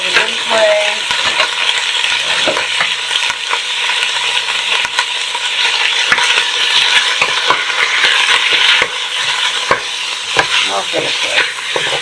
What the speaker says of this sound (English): we're going to add our cut up stew beef, okay, to the pan